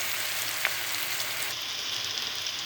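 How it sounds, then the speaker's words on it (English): Onions frying on full high heat for a Cajun jambalaya, a steady dense hiss of sizzling with a single small pop, continuous and close. "So we're just going to keep that going, stir it around, and we'll check back in with these onions in just a moment."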